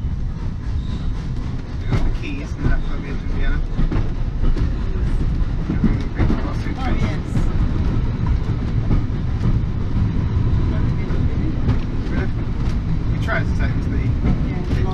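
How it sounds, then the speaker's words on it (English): A heritage train on the Keighley & Worth Valley Railway leaving a station rumbles steadily with clanking and rolling wheel noise, loud and close throughout, with faint voices beneath. "Here comes our train back to Keighley. We are now leaving Ingrove West."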